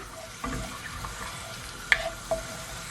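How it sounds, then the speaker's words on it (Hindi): Whole spices, including two bay leaves and a few pieces of cinnamon, fry in hot oil at the start of a mutton curry, giving a steady soft sizzle broken by a few sharp clinks of a utensil against the pan. "और चंद सेकंड्स के लिए हमने ऑयल में मसालों को पका लेना है।"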